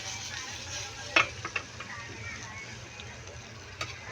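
Leftover pork menudo from the fridge sizzles as it is reheated in a small pan, a steady frying hiss with a few clinks of a utensil stirring.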